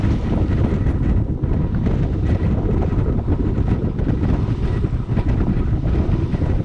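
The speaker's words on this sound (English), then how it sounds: "some of the wind is no longer coming over land, but also just from sea, increasing the gusts by quite a bit." Strong, steady wind roars across the microphone aboard a sailboat beating north at sea, with gusts swelling continuously and water rushing beneath, loud and unbroken with no voices.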